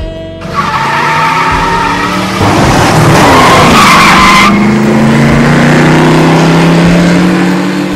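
Loud tires screech in a long skid, followed by a crunching impact and engine roar; a dense, intense burst with no talking.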